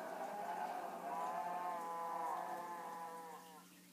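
Overlapping cow moos from Minecraft Pocket Edition form a long, wavering, nasal drone that lasts several seconds, close and steady, then fades slightly at the end; no one speaks.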